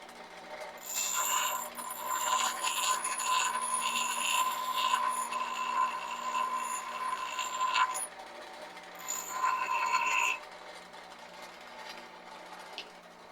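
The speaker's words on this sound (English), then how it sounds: "So right now what I'm actually doing is grinding this bit just to make sure it's nice" A forged axe head's bit is ground on a power grinder, making a close, loud, whining rasp that runs steadily for several seconds, stops, then returns for a shorter burst.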